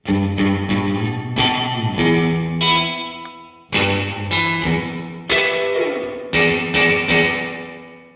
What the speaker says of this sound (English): You can almost get like a slapback effect.